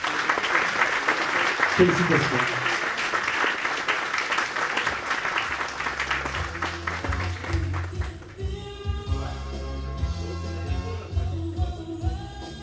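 Loud, sustained audience applause at a radio awards ceremony, a dense crowd clapping for an award winner, gradually giving way to music with a voice briefly speaking over it.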